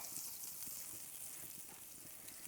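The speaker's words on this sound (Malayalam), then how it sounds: "നമ്മുടെ ചട്ടി ചൂടായി വന്നാൽ 1 ടീസ്പൂണ് ബട്ടർ ഇട്ട് കൊടുക്കുക." Butter sizzling in a hot non-stick pan, a soft, steady crackling fry that continues evenly throughout with no voices present.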